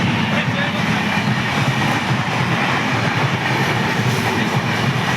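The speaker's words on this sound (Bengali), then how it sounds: "ট্রেন আইছে" A train rumbles past a trackside path leading to a market, its steady rolling clatter loud and continuous throughout, with a faint murmur of voices beneath.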